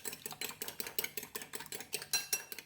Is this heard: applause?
no